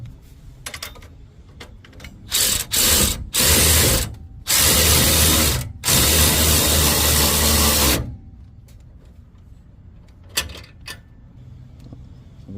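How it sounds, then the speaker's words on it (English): A wrench tightens the upper ball joint on a Dodge Ram 1500 during a Rough Country 6-inch lift kit install, giving several loud, sustained mechanical ratcheting bursts with short pauses between them, then scattered clicks. "I'm gonna tighten this upper ball joint"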